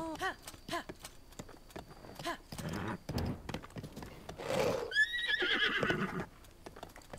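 A horse whinnies and snorts amid quick hoof clip-clops in The Legend of Zelda: Breath of the Wild, with game-style sound effects and a brief rising chime partway through.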